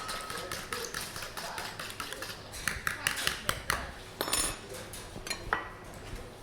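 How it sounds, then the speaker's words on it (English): Seven eggs are beaten in a bowl for a frittata, giving quick irregular taps and clinks of a utensil against the bowl, fairly faint, with a person talking over them. "So I'm going to beat up, I've actually put 7 eggs in here."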